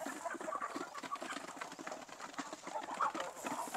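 A flock of native chickens clucks and peeps steadily at feeding time, a soft, busy chatter of many birds at a moderate distance with no talking.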